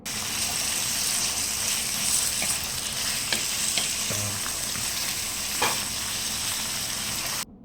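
Washed chicken pieces frying in a pan for a spicy chicken curry give a steady, close, full sizzle throughout with a few faint clinks of stirring, no talk.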